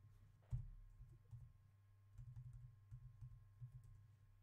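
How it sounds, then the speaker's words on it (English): Typing on a computer keyboard, a quiet run of soft clicking keystrokes in irregular bursts with a single sharper tap near the start, close and alone. "somebody's typing in hack codes"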